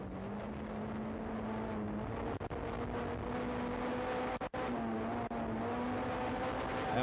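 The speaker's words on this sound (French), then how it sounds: "On verra les autres compétiteurs, cette fois-ci sur le pare-choc de la voiture de Luc Brunet." A rally car on a special stage of the 2005 Rallye des Draveurs near Maniwaki, heard from a bumper-mounted position: a steady, loud engine drone shifting pitch through gear changes, with brief dips and thumps from the road.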